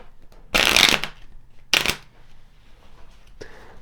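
Kipper fortune-telling cards are shuffled in two quick riffling bursts up close, followed by a softer brief card rustle after a pause, with no talking.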